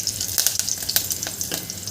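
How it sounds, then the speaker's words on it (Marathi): Curry leaves and green chillies in hot oil for a fasting-day buttermilk curry crackle and sizzle close up, a busy run of quick pops over a constant frying hiss. "मिरच्या छान परतलेल्या आहे आपण यामध्ये कढीपत्ता घालून घ्यायचा आहे"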